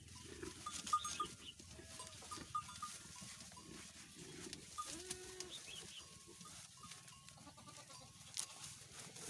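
Goats on a farm in Nepal at evening bleat softly and intermittently at a distance, several calls scattered over a quiet background of faint farmyard noise and occasional bird or chicken sounds.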